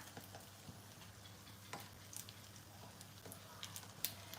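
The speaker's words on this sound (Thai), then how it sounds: "เราจะทอดแป้งให้เหลืองก่อน" Soft, steady sizzling of spring rolls frying in hot oil in a pan, with faint crackles and occasional pops, fairly quiet and continuous with no talking.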